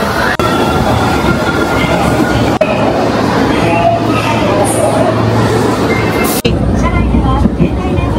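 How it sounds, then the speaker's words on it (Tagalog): An Osaka subway train rumbles and rattles loudly in a tunnel, with a dense steady roar, brief clunks and a short high squeal near the end, voices faintly mixed beneath. "First time namin sa subway."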